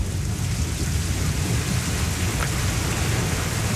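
A heavy thunderstorm pours steady, dense rain around a dark house at night, with a deep, rumbling thunder roll underneath the constant loud hiss of downpour and no break in the noise.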